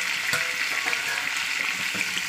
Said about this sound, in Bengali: 2 মিনিট ধরে আমি তেলের মধ্যে পুরো ভাজা করেছি কলা আর আলুটাকে।